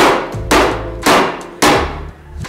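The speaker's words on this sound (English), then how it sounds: "Hammering pins on here." Three loud, evenly spaced hammer blows ring out as pins are driven onto the rear truss of a Jeep JK, each a sharp metallic strike with a brief decay.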